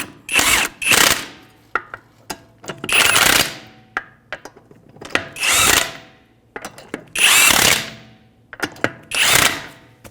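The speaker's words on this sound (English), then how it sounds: "With a 21mm socket, we'll go ahead and snug these up." A power tool with a 21mm socket snugs up hub bolts on a 2015-2019 Hyundai Sonata during a front wheel bearing and hub replacement, sounding in repeated loud whirring bursts separated by short pauses and small clicks.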